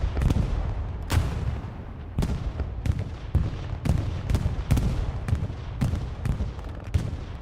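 Heavy booms and gunshots in a war video game as a bombing run passes through, with loud, regularly spaced blasts roughly every half second to second over a constant rumble of battle.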